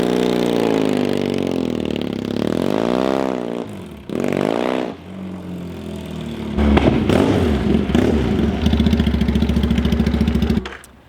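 A cafe racer motorcycle rides up and down a street, its engine loud and close, rising and falling in pitch through revs and gear changes before a harsh, rapid-pulsing burst near the end.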